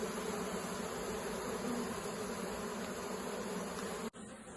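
Steady, dense buzzing of many honeybees fills the air close by, continuous and even, ending with a brief knock.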